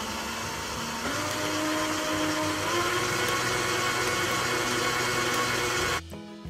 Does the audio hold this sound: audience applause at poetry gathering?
no